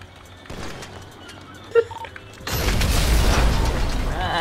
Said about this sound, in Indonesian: Udah meledak itu